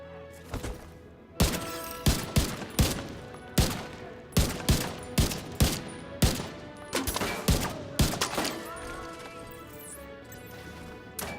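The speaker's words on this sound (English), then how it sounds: "I think that's a turret." Turret gunfire in the video game The Division 2, a loud series of about a dozen heavy irregular shots with ringing tails, close and dominant, with no talk.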